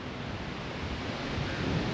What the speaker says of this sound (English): Yeah, it's pretty windy.